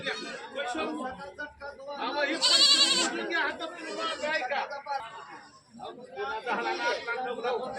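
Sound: goats bleating at a livestock market

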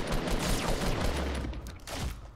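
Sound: gunfire in the distance in the video game Fortnite

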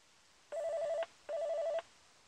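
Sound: Volvo hands-free module ringing like an incoming call during update

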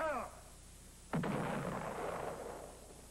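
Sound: cannon fire after order to fire

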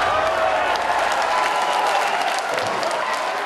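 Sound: cheering at ESA Darmstadt mission control

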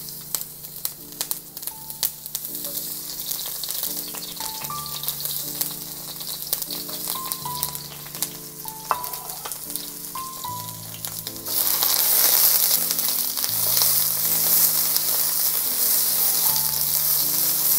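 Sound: frying capsicum (bell pepper) in a pan

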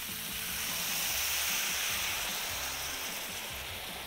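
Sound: water poured into hot pan to deglaze chicken and mushrooms

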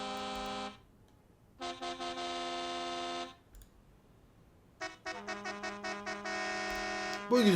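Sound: bus horn honking in Bus Simulator Ultimate video game

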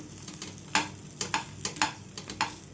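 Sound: pesarattu frying crisp on a pan

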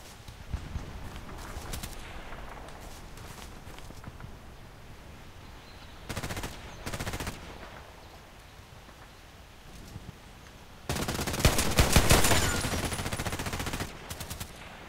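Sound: machine gun fire in a video game

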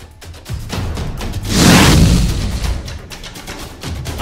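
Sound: cannon firing

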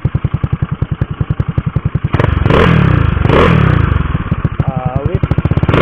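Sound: motorcycle exhaust revving

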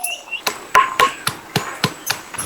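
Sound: pounding garlic

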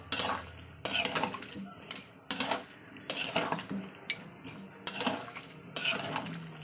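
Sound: mixing potatoes with meat in a pan

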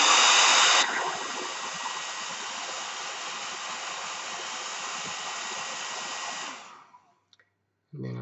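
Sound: drying paint with a hair dryer

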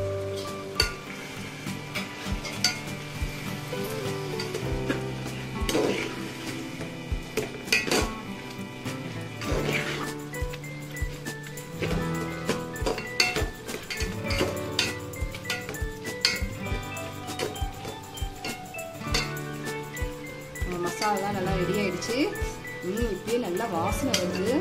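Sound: chicken being stirred in a frying pan for biryani

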